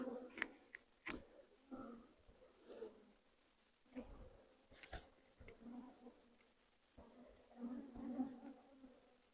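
Honeybees buzz faintly around an opened hive during smoking, a thin insect drone with scattered taps and handling knocks close by; no talk over it.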